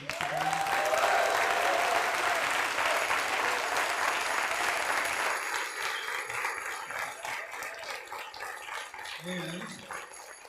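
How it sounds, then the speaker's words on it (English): At a kirtan festival in Rishikesh, an audience gives loud, sustained applause that gradually eases off, with brief voices and a dog's whimpering audible through it. "Gauravani, give him a big round of applause"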